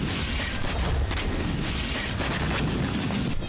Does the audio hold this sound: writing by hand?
no